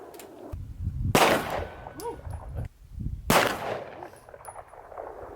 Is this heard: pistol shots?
yes